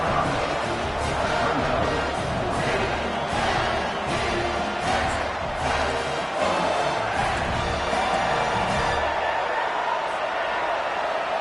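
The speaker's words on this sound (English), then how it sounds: "this crowd is making it miserable on this offense" Football stadium crowd roaring during a fourth-down play, a dense, loud, continuous wall of cheering and noise with no break.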